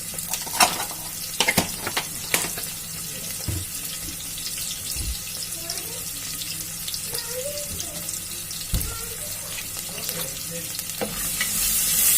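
Mutton seasoned with salt and turmeric fries in a pan for a mutton drumstick curry, a steady soft sizzle broken by sharp clinks and scrapes of stirring, with the sizzle swelling near the end.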